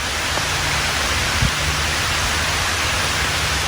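Fine mist-like rain drifting under a tarp beneath woodland trees, an even, continuous hiss with a faint low rumble and one small thump partway through, no voices.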